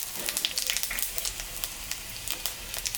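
Dried chilli, cumin and bay leaf tempering in hot oil left from frying fish, a soft, close sizzle with scattered light pops and crackles.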